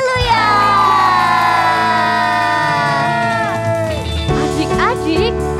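A crowd of children at a Sunday-school worship service shouts and cheers together, loud and close, over sustained singing and music.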